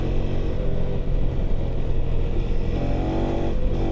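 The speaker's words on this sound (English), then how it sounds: "So let's do a bit of a gravel section here first. Fast-paced, easy gravel road." KTM 390 Adventure R motorcycle ridden fast along an easy gravel road, its single-cylinder engine droning loudly and steadily close by, pitch climbing toward the end as it pulls harder.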